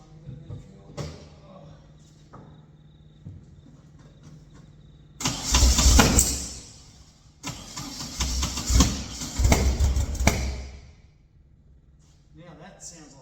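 An engine with its timing set 180 degrees out cranks and fires in two loud bursts of running, each lasting a few seconds with a short pause between, and quieter background noise before and after.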